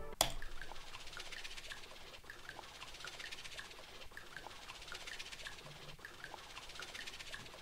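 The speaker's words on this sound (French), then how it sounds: "premier FX c'est genre une petite goutte qui tombe dans une cave, ou une grotte" Quiet electronic sound effects: a small water drop falling in a cave and a rattlesnake-like rattle, made for a techno track. Faint ticks and drips recur at a slow, steady spacing over soft hiss.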